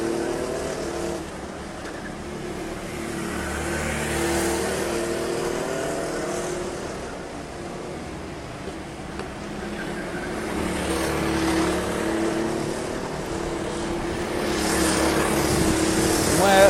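Race cars drive around the Imola circuit as the leaders head into a corner, with a continuous engine roar that swells and fades as the cars pass, under a commentator's voice.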